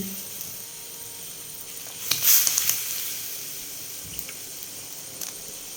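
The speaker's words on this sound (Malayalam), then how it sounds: "അരപ്പ് നല്ല തിളച്ചിട്ടുണ്ട് അപ്പോൾ അതിലേക്ക് നമ്മുടെ മീൻ കഷ്ണങ്ങൾ ഇട്ട് കൊടുക്കാം" Pieces of motha fish drop into bubbling Kerala fish curry paste, making a short splashy sizzle burst midway through a quiet, steady simmering hiss, with no talking.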